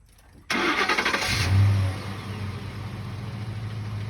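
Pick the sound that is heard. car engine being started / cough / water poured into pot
car engine being started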